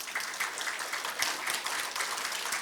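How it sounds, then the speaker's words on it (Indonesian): A seminar audience claps together, a moderately faint but steady wash of applause with a few louder swells, heard without talk. "Ya tepuk tangan."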